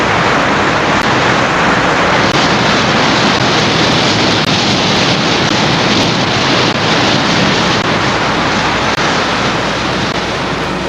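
Churchill River water thundering over Churchill Falls in Labrador, a dense, unbroken roar of broadband rushing noise, loud and constant throughout.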